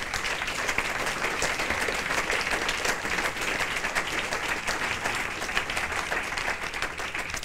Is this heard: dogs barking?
no